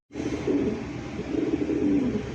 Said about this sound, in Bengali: কবুতরের কথা কয়।